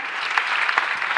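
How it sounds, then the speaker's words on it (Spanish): Steady, dense applause fills a hall from a large audience at a film festival award ceremony in Mar del Plata, continuous and fairly loud throughout. "sí pueden aplaudir"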